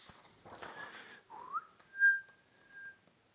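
A man whistles a short tune, a few rising notes then a long held tone, clear and close with no talking.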